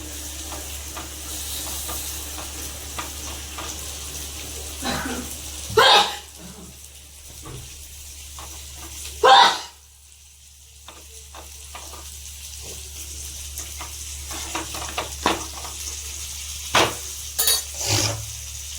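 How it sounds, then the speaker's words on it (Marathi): Bhakri flatbread cooking on a hot tawa griddle, a faint steady sizzle with a few louder bursts of crackling as it is patted with water, heard close and without talk. "भाकर झालेली आहे आपण तव्यावर टाकून घेऊया"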